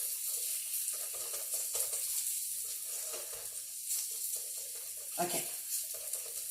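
Chicken sizzles in a hot stir-fry pan for a General Tso chicken dish, a continuous crackling hiss with small pops and spoon-stirring scrapes, close up, while a voice briefly speaks once.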